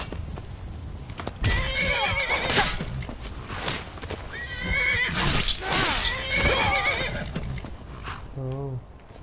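A horse in Skyrim whinnies and neighs several times over scuffing hooves and clattering game effects, loud and close, ending with one clear, descending whinny.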